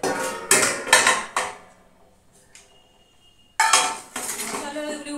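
Metal pots, a kadai and utensils clatter and clang close by in bursts of ringing knocks as they are scrubbed and handled, with a quiet pause in the middle.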